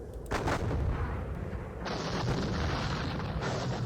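Artillery guns fire in the John Tiller Napoleonic Series war game, a sustained rumbling volley of booms that overlap into a continuous low roar, with a brighter burst partway through.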